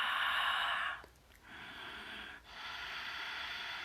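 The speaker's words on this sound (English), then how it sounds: "learn how to breathe ujjayi, or ocean breath. And it's almost like when you gargle." Ujjayi ocean breath drawn through a constricted throat, a soft close hissing rush that breaks into three breaths separated by short pauses, quiet and alone.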